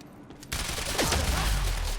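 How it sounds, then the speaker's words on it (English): A sudden burst of rapid gunfire fired from behind a time shield in Quantum Break comes in sharply after a quiet start, then continues as a dense, loud fusillade with low booms building toward the end. "Okay, so you can fire out of the shield."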